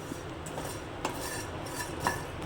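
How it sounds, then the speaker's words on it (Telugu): Peanuts and spices for a stuffed ridge gourd curry are stirred in a pan, with a soft, low background and a few light metallic scrapes of a spoon against the pan. "ఇలా అన్నీ వేసుకొని మనము కొంచెంసేపు వేయించుకుంటే మంచి సువాసన వస్తుందండి"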